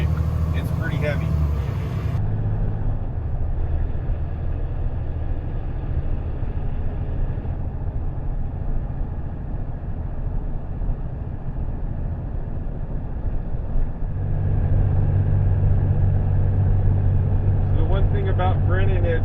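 Fire engine 41, a heavy rig carrying 1,500 gallons of water, climbs from flat ground near the water into steep hills, its steady engine drone running under continuous talk.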